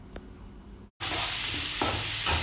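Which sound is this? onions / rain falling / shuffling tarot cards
onions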